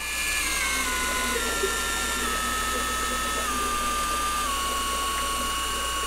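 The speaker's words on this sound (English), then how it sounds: "I'm keeping a little bit of tension on it so it goes on the spool nice and tight." An electric deep drop fishing reel winds line onto its spool under light tension. A steady, close mechanical whir of gears and clicking runs for several seconds, and its pitch slowly falls.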